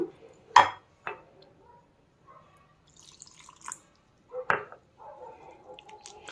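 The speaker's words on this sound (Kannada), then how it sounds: "ನಾವು ಮೊದಲಿಗೆ ಗೋಧಿ ಹಿಟ್ಟನ್ನ ನೀರ್ ಹಾಕಿ ಕಲ್ಸ್ಕೊಳ್ಳೋಣ" Wheat flour is stirred with water into dosa batter, giving sparse, quiet clinks of a utensil against a bowl and small wet drips and splashes separated by silences.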